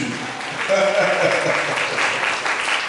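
A church congregation at a French-language worship service applauds to acclaim Jesus, a loud burst of clapping that swells and holds steady for a few seconds alongside voices.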